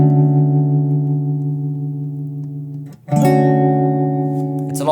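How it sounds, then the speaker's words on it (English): Guitar played through a ToneWoodAmp Leslie effect with reverb turned all the way up: sustained chords ring in a long, cave-like wash, with a brief dip and a fresh strum about two-thirds through, loud and with no talking. "if I turn the reverb all the way up to 25, you'll hear that it kind of sounds like it's in a cave."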